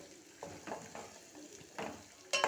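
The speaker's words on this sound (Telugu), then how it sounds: "ఇప్పుడు కళ్యమాకు ఇలా వేసుకొని ఇలా కలుపుకోవాలన్నమాట చూసారా క్యాప్సికమ్ అనేది నూనెలో ఎంత మంచి మెత్తపడిపోయిందో" Capsicum and curry leaves frying in oil, stirred in a few separate strokes; soft bursts of sizzle and scraping rise and fall in a loose rhythm, ending on a sharper metallic clink, close but fairly quiet, no voices.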